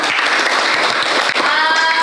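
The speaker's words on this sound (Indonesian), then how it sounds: "Tepuk tangan Gendis." Classroom students clap together for a classmate, a brief, dense burst of applause filling the room at close range.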